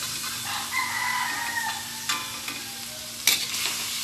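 Chicken congee with fish sauce and pepper stirred in a pot, a steady low sizzle and scraping with a few sharper knocks of the spoon, close and continuous with no talking.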